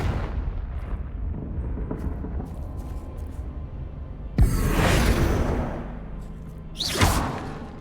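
Explosive fire-spell blasts in Hogwarts Legacy: two sudden loud bursts, each a roaring whoosh with rumbling impact, over a low ambient background rumble.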